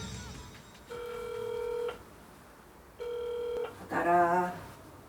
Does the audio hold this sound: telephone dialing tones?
yes